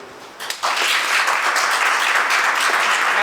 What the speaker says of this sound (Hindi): आपके लिए ताली।